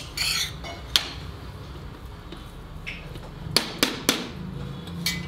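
A utensil stirring red spinach in coconut oil in a cooking vessel: sharp metallic clinks and scrapes in irregular bursts, a few louder knocks near the end over a quiet background.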